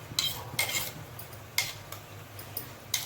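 A spoon scrapes and clinks in a pan as tomato paste is stirred into onions for chole curry. Several distinct scraping strokes come close and clear over a faint background hum, with no talking.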